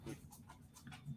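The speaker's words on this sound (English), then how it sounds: "There's my dog in the background." A dog pants faintly in the background of a quiet indoor room, its breaths coming in a quick, steady rhythm.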